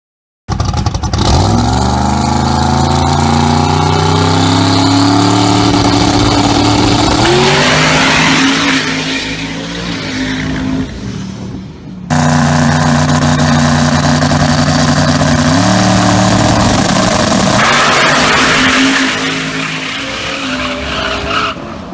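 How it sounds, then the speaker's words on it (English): 1970 Pontiac GTO street racer with a 482 cubic inch engine and 94 mm Precision twin turbos, revving hard twice, each time a loud climbing engine roar that breaks into a harsh rushing, tire-skidding burst. "Big Chief has a 1970 GTO with a 482 cubic inch engine, 294 precision turbos with an aluminum rear end"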